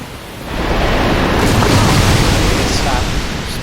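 In the Dark Souls video game, a hydra sprays water, heard as a loud sustained rushing gush that surges in after a brief lull, holds steady and tapers slightly at the end.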